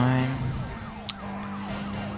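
Wailing police car sirens in the racing game Need for Speed Most Wanted rise and fall repeatedly over a steady engine drone, with another siren tone at the start.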